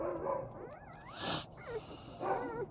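Newborn puppies give soft, high whining yips and squeaks in three short bursts, close but quiet, with brief pauses between and no talking.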